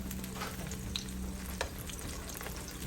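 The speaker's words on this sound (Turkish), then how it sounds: "Şimdi de patateslerimi, patlıcanlarımı kızartacağım." Eggplant frying in oil: steady sizzling and crackling throughout, with a few brief clinks and pops, fairly close and continuous with no talking.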